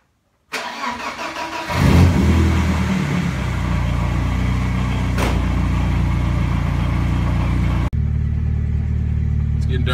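A supercharged BMW E30 engine cranks and catches, then runs loud and steady with a deep throaty rumble, a brief blip of revving near the end, while driven out in the snow.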